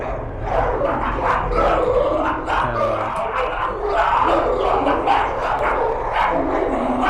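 Dog-like creatures in the video game Amenti bark and yip continuously over a dense, loud game soundscape, overlapping calls that sound like a pack of dogs.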